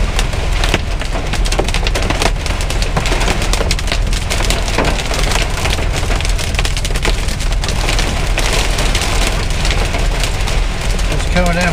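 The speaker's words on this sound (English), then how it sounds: "we are sitting here in our first hailstorm" Hail pelts down hard and steadily on a roof during a hailstorm, a dense, loud, continuous rattle of many small impacts with no pause.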